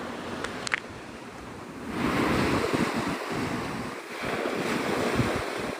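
Ocean surf rolls in a steady wash at Navarre Beach, Florida, with strong wind buffeting the microphone. A couple of brief high chirps come early, then the roar swells and stays loud to the end.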